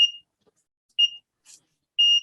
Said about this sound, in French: il y a un bip pour partir